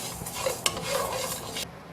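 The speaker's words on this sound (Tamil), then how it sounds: "அரிசியும் நல்லா பக்குவமாக வறுத்து எடுக்கணும்." Rice dry roasting in a pan for sambar powder, a soft rustling and scraping of grains being stirred, with a sharp clink of the spatula partway through, stopping near the end.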